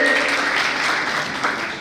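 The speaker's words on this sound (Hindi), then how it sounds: "जोरदार तालियां अरोड़ा साहब के लिए।" Loud, dense applause from an audience at a Republic Day celebration in Delhi, welcoming a chief guest, a district secretary of the legal services authority; sustained and steady across the whole stretch with no pauses.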